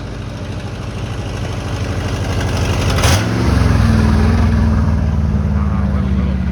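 A 1971 Ford F-350 truck engine drives by on the road, a steady mid-pitched rumble that swells as it nears and shifts pitch as it passes close, with a brief talking voice.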